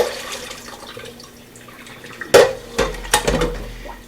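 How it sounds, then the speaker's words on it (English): Water from cooked rice is poured off into a sink, a soft running trickle that turns into a few sharp splashes and clatters near the end. "I'm just going to drain this water out."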